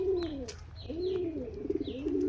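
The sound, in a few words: pigeons cooing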